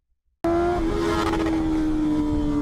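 A motorcycle engine holds steady right on its rev limiter, a loud, sustained buzzing drone that starts abruptly and stays close and constant without letting up, with no voices.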